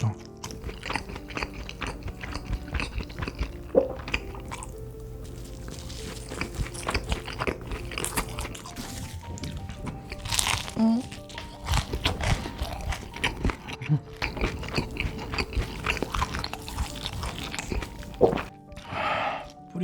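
Crunchy Bburinkle fried chicken is bitten and chewed close to the mic, giving repeated sharp crackling crunches and wet chewing at an irregular rhythm, with brief moments of quiet between bites.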